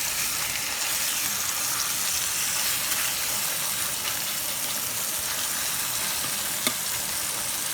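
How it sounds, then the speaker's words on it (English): A steak with herbs sears in a hot pan, a dense, even, loud sizzle that runs unbroken from start to finish, with one faint tap near the end. "I'm going to cook the next steak"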